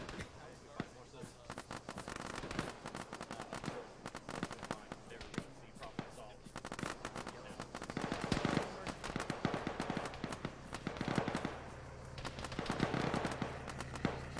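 Dense, rapid gunfire crackles through a military shooter battle, near and distant shots overlapping in irregular bursts under radio-style voices talking throughout.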